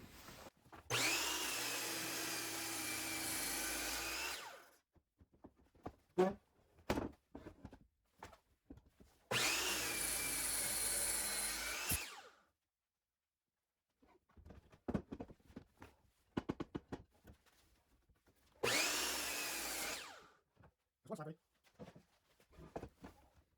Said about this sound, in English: Let's start by cutting our two 26-inch slabs off of this big board.